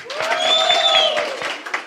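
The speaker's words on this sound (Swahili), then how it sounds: "Tupige makofi tena" A crowd applauds at a political party rally, a steady burst of clapping lasting about two seconds with a thin high tone running over it.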